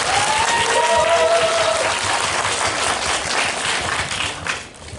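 Dense audience applause fills a packed screening hall at the Bucheon International Fantastic Film Festival, loud and steady throughout before thinning slightly near the end, with a faint voice briefly audible over it.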